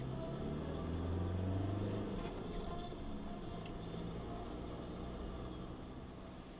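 Oncoming traffic passing on a narrow road through a gorge in southern France: a faint, steady low rumble of vehicles swelling briefly early on, then fading slightly.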